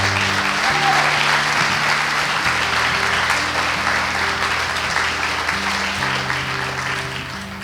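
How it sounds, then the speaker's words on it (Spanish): A church congregation applauds in praise of the Lord during a service. The clapping is sustained and fairly loud, with sustained organ or keyboard chords underneath, and it fades slightly at the end. "Denle un aplauso al Señor."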